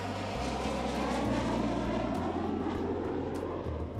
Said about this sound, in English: practiced touching down at Kennedy's Shuttle landing facility using the shuttle training aircraft to simulate the shuttle's unique characteristics